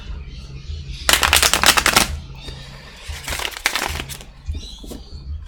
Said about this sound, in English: that's one more shuffle